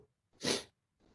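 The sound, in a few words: sneeze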